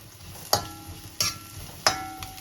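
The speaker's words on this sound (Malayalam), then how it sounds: "അരപ്പിട്ട് കൊടുക്കാം ഞാനൊന്ന് ഇളക്കി കൊടുക്കാം" Ground coconut paste being stirred into a leaf stir-fry in a Chinese-style wok, three sharp metallic scrape-clanks spaced evenly over a quiet, steady sizzle.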